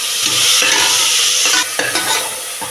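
Onion and ground masala paste frying in a pan while being stirred, a loud close sizzle with scraping strokes of a spoon that come in uneven bursts.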